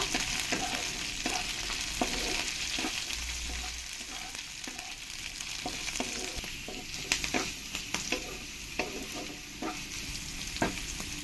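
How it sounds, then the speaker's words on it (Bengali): Carrots and beans frying in a pan for pasta, a steady sizzle broken by repeated scraping and clacking as a spoon stirs the vegetables, close and continuous with no talking. "গাজরগুলো আমার ফ্রাই করা হয়ে গেছে এবার এর মধ্যে দিয়ে দেবো আমি বিনস বিনসগুলো একটু ফ্রাই করে নেব"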